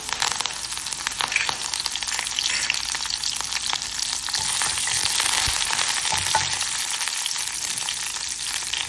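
Garlic cloves and curry leaves frying in hot oil in a pan, a steady, loud crackling sizzle that runs the whole time with occasional sharper pops and stirring scrapes, no voices.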